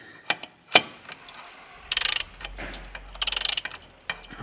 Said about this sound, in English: first we're gonna loosen the bolts